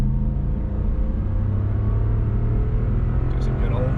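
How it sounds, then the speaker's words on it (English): A 2021 Toyota Land Cruiser Heritage Edition V8 runs at wide open throttle, a loud, continuous deep engine roar heard from inside the cabin as it pulls hard for several seconds, with voices faintly underneath. "Let's put it in power mode. It really doesn't do too much, and let's just go wide open throttle."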